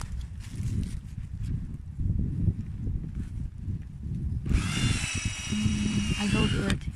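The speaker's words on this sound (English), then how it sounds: "So we're going to drill the tree again." A power drill bores into a birch tree trunk outdoors for sap tapping, a sustained high whine starting partway through and running loud to the end, with voices chatting before and alongside it.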